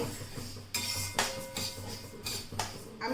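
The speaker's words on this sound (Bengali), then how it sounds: "ডালটা কিন্তু সবসময় নাড়তে হবে, না হলে কোথাও বেশি কোথাও কম ভাজা হয়ে যাবে" A metal spoon scrapes and knocks against a pan while dal is dry roasted and stirred, giving soft clinks and scraping strokes at an irregular pace, quiet and close.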